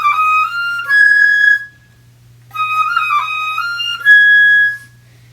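Solo flute playing a short phrase of quick grace notes fitted into a triplet, heard twice with a pause between, each ending on a held tone, clear and close with no talk.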